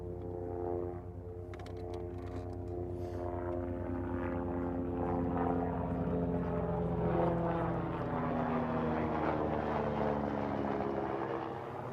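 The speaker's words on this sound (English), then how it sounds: "Got ourselves a chopper." A chopper passes near a bass-fishing spot, its steady rotor drone swelling and shifting over twelve seconds, loud and continuous, with no talking.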